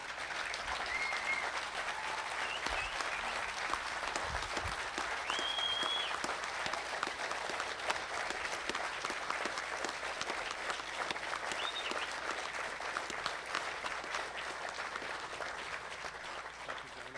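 Sustained applause from an audience honouring Vietnam veterans at a driver appreciation event, steady broad clapping throughout with a few faint whistles and murmurs.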